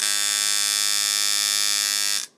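A Dan Kubin V3R Sidewinder tattoo machine, with O-rings fitted, buzzes with a steady, bright electric whine for about two seconds, then cuts off abruptly.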